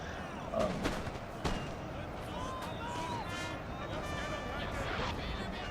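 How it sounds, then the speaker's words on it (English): Sharpshooters fire in a war strategy video game with a mortar bombardment, with two sharp shots early on, then a steady rumbling battle backdrop with faint distant reports. "the sharpshooters are still shooting here"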